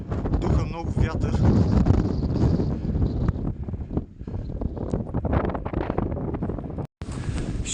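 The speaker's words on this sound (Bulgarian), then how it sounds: "Духа много вятър." Strong wind roars and buffets the microphone in heavy gusts on a mountain climb on the way to Dobrila hut in Bulgaria, with a person talking underneath the noise.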